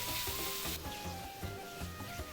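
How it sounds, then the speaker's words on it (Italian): Onion and ground meat browning in oiled pan, a steady close sizzle with soft scraping stirs and gentle clatter, no voices. "Aggiungo la carne macinata. Ora facciamo rosolare bene."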